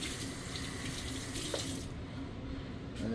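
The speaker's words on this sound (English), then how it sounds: "just rinse off your brush" Tap water runs steadily into a sink while a shoe-cleaning brush is rinsed under it, a close, continuous splashing rush.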